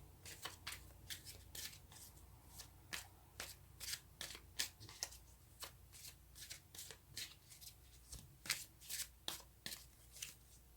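Tarot cards are shuffled and drawn close up, with a string of crisp riffling flutters and snaps in an irregular rhythm, each burst brief and sharp against a quiet room.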